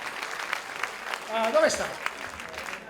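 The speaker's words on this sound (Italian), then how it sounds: "Prendi l'applauso, dai." Applause from a theatre audience greeting a new member of a comedy company, steady scattered clapping running the whole time beneath a voice speaking briefly in the middle.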